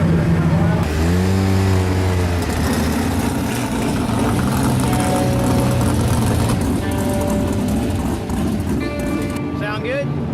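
Dirt track race car engine at wide open throttle, a loud continuous roar with rising and falling harmonic sweeps, heard close with people talking over it throughout.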